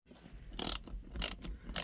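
Screws being driven into the bottom of a gear shifter boot cover on a Freightliner Cascadia semi truck, short ratcheting, clicking bursts close by, three or four quick rasps separated by brief pauses.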